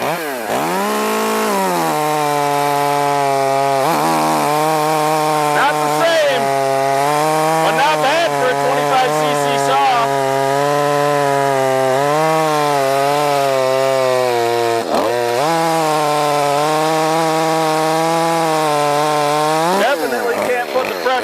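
A modified Makita 2511 chainsaw cuts through maple, its loud, close engine screaming at high revs with wavering pitch as the chain bogs and recovers, brief drops near the start and end.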